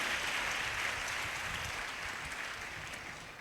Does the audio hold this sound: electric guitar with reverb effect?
no